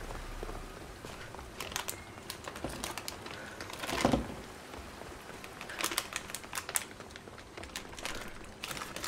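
Plastic bag of gummy bears rustled and crinkled up close, quiet irregular crackles with a louder crumple in the middle, over faint game background.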